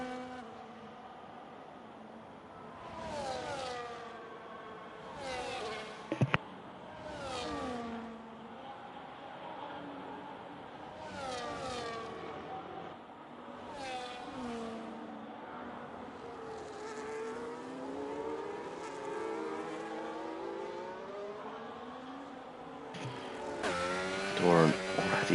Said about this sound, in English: Dorn already past Preb on those mediums. They are very quick.